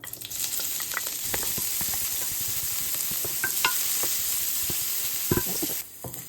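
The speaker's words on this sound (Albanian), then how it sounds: "E kontrollojmë vojën në nxehet, është gati, hedhim qepen." Loud, steady sizzling of onion in hot olive oil with crackles and pops throughout, close up, no talking, cutting off abruptly near the end.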